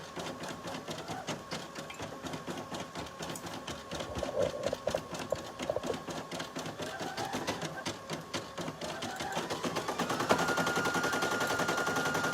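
A sewing machine runs a tack down stitch on a robe back, its needle chattering in a fast, steady stream that grows slightly louder and denser toward the end.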